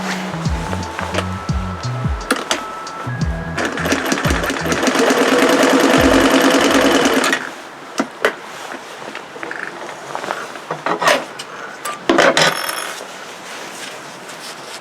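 An older sewing machine stitches in a test run after threading, with rapid mechanical whirring and clatter building to a steady loud burst, then stopping, followed by scattered handling clicks and knocks.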